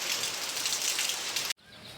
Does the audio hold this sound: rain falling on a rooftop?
yes